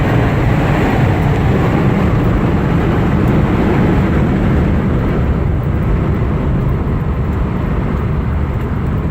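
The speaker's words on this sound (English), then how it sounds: "A little bit of wind noise on this convertible top." Wind rushes over the convertible top of a 1956 Ford Thunderbird while it is driven, a loud, steady broadband roar with road and cabin rumble underneath and no voices.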